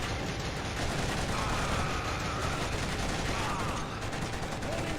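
Turret gunfire in the video game Killzone comes as a dense, continuous rattling fusillade, loud and close throughout.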